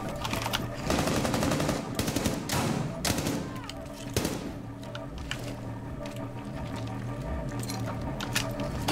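Rapid automatic gunfire from a shooter video game, bursts of shots and blasts crowding the first few seconds, then sparser scattered shots and clatter at a steady loud level, no talk.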